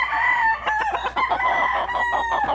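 A gamecock stag crows close by, one drawn-out call followed by a few clucks, loud and alone with no talk over it.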